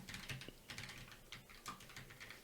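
Code being typed on a computer keyboard: quick, quiet keystroke clicks in uneven bursts with short pauses, close to the mic.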